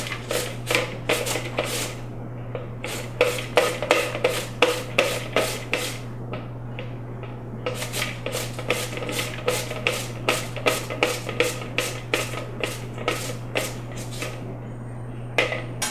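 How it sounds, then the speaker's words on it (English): Cut-up apples are shredded by hand on a grater for homemade horse treats: a steady run of loud, close rasping strokes, each a short scrape, with a brief pause near the middle and a low hum beneath. "once I have my apples all cut up, I'm going to shred them."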